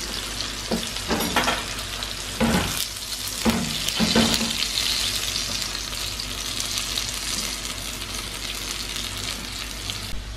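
Saag paratha frying in a pan, a continuous bright sizzle with a few louder handling knocks near the start, close and steady throughout.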